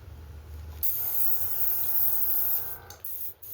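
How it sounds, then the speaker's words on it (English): Paint spray gun hissing a test burst before coating a green fire tiger fishing lure: one steady close airy hiss lasting a couple of seconds, then short sputtering bursts as it cuts off. "I just make sure it's spraying good by doing that"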